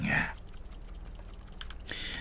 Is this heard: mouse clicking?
yes